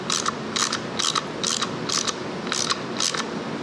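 Nuts being tightened by hand on an Alexander Reynolds (ARCO) mini-bike during restoration, heard as seven evenly spaced, close ratcheting clicks in a steady rhythm over a low background hum.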